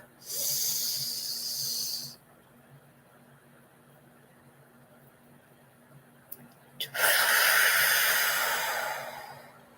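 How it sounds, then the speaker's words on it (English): Deep breaths in during a guided meditation: two long, airy breaths close to the microphone, each lasting about two to three seconds, separated by a quiet pause. "So we're going to breathe in deep."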